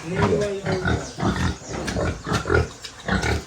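Several short, rapid piglet grunts and squeaks close by in a pen on a farm in Katosi, Uganda, a busy run of snuffling calls with no talk.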